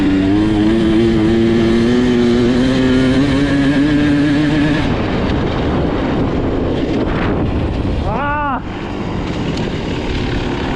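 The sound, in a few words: enduro motorcycle riding at full throttle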